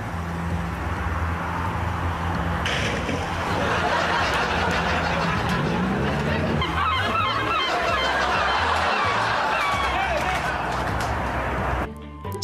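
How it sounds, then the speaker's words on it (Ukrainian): A flock of agitated birds honk like geese, a dense continuous clamor of overlapping honks and calls with a low rumble beneath, cutting off abruptly near the end. "У птахів сьогодні поганий настрій."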